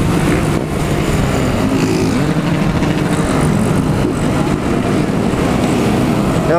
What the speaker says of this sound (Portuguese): Várias motos.